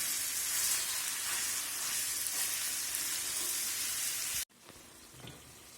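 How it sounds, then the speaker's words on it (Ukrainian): Chicken mince with onion and carrot fries in a pan, a bright steady close sizzle that cuts off abruptly near the end, leaving faint quiet clatter. "Він уже підсмажився з цибулькою з морквою"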